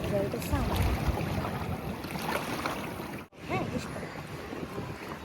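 Steady breeze rushes across a small boat on the Ganges near Prinsep Ghat at sunset, a continuous close roar buffeting the microphone, cutting out for a split second midway, with faint voices murmuring underneath.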